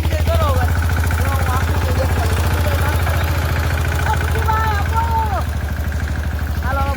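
A tractor engine idles nearby with a steady, low, pulsing chug throughout, while a person talks over it.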